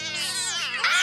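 A cartoon kitten gives one drawn-out, high, wavering meow that rises and bends in pitch, loud and close, ending with a brief sharp bump.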